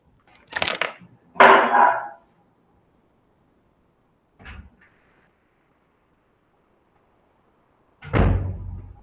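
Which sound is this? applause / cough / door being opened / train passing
door being opened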